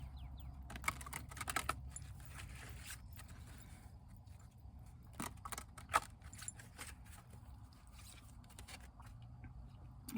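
Quick bursts of crisp flapping and riffling from a ruffle shuffle of cards come in irregular clusters close by against a quiet low hum.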